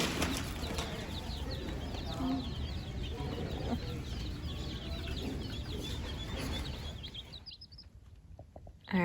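Eight young chicks, four Rhode Island Reds and four Black Sex Links, cheep and cluck steadily at close range, with soft rustling and wing flutters throughout before the sound drops away near the end.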